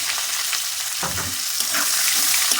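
Chopped onion, green chilli and crushed cardamom, cloves and cinnamon fry in hot oil, a steady close hiss with soft scraping as the mixture is stirred for an egg curry.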